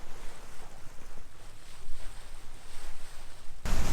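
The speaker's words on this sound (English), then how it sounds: "Finally we got some wind." Wind rushes past a sailboat in the channel between Dugi Otok and Ugljan in Croatia, a continuous gusty roar with wave wash and buffeting microphone noise, ending in a sharp, loud blast.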